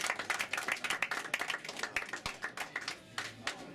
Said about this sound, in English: please give a round of applause for Jay Connector